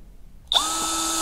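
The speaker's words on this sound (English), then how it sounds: "Put the screws in place. And then drill them in." A power drill whirs up sharply and holds a steady high whine as it drives screws into the wooden boards of a raised garden bed kit, close and loud after a quiet start.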